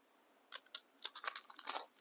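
Bites into crunchy toast topped with strawberry jam, several sharp close crunches followed by a quick burst of chewing crackle, quiet and clean with no talking.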